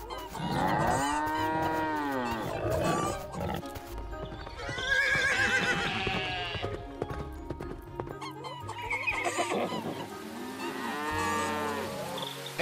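Animated farm animals call out in turn, a horse neighing and whinnying with clip-clopping hooves alongside cows mooing, the calls loud and close and repeating across a busy stretch.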